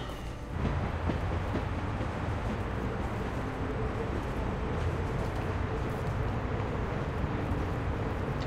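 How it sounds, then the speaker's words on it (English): A moving train in The Walking Dead video game gives a steady rumbling roar with faint rhythmic rail clatter, starting after a brief quieter moment and holding a constant loud level throughout. "We need to stop this train."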